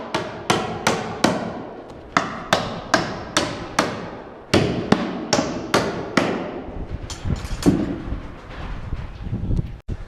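A hammer pounds on wood in a steady series of sharp, close blows, pausing briefly midway and continuing with a few faster, irregular knocks.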